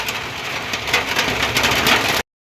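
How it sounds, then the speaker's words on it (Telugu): Steady rain falls outdoors in a village, a loud close hiss of drops on surfaces that continues evenly, then stops abruptly. "చినుకులు పడుతూనే ఉన్నాయి."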